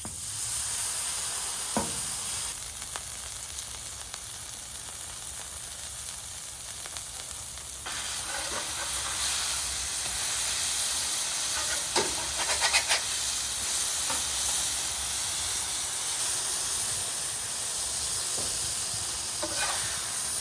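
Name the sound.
burger patties sizzling on a hot griddle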